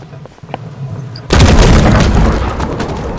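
A loaded ship's cannon in a naval sailing game fires with a sudden loud boom after a quieter stretch of faint clicks, followed by a long rumbling, crackling blast decay.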